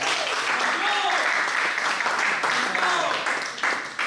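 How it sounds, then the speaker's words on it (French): An audience breaks into dense, sustained applause, loud and continuous, with voices and cheers mixed into the clapping throughout. "je vous demande un tonnerre d'applaudissements pour Monsieur Hicham."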